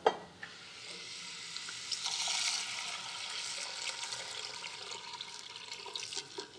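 Yellow split peas being stirred in hot, flavorful fat in a pot, giving a steady hissing sizzle with soft scraping and clicks of the spoon, moderately close and without talk.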